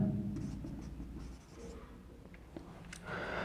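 A pen scratches across paper or a board as the words variable initialization are written during a computer lesson, short quiet strokes close by with faint background sound.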